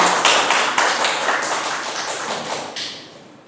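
Audience applause at an Indonesian seminar, a scattered round of claps from a small crowd, fairly close and steady at first, then thinning and fading out over a few seconds.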